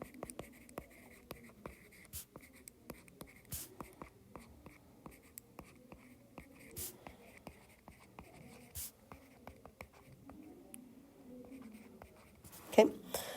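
A pen scratches on paper while a math equation is rewritten, giving soft, faint strokes and taps in an irregular rhythm, close and quiet, with a brief louder scrape near the end.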